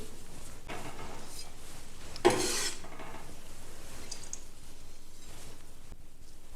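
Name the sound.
grating carrot into fine shreds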